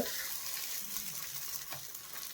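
Coconut obbattu (holige) flatbread laid on a hot pan, a steady soft sizzle and crackle of frying throughout, with faint scraping.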